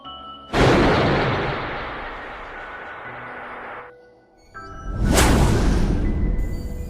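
A gunshot rings out in a dramatic scene from the film The Warriors, a loud broadband blast carried by a long swooshing whoosh that fades, then a second sharp, bright burst follows and stays loud to the end, with no talking.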